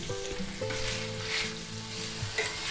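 Shrimp and roasted pork fried rice with garlic powder, onion powder and smoked paprika sizzles steadily in a hot pan while being stirred, a constant close frying hiss with scraping movements and no voices.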